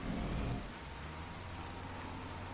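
Steady broadband rain hiss in Farming Simulator 25 on the Riverbend Springs map, with a louder low rumble in the first half-second before settling into an even, continuous wash.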